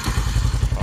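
A Yamaha Sniper 135 motorcycle engine, just back from a starter motor repair, catches and runs with quick rhythmic thumping pulses. The burst is close, loud and very brief.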